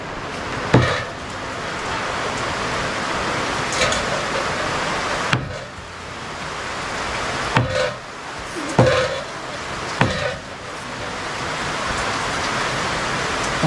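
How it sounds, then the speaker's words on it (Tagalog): Heavy rain pours down in a steady, dense hiss that fills the whole stretch, with a few sharp knocks and thuds scattered through it. "Ayan po, lakas na ng ulan."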